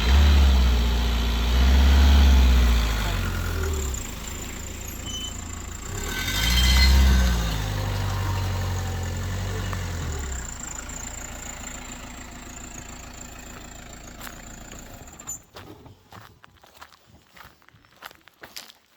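A broken-down DKV car engine idles nearby with a low, uneven rumble that swells twice early on. It then settles, fading under scattered clicks and rustling toward the end.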